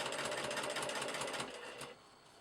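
A sewing machine runs a fast, even stitch along a rick rack edge, a continuous close whirr that cuts off and leaves only quiet room sound behind.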